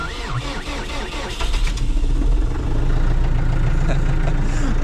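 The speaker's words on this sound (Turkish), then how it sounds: "Şimdi hemen bir traktörümüzü çalıştıralım." A diesel tractor engine cranks and fires on a single try in freezing cold after the glow plugs warm, catching and settling into a loud, close, rough idle.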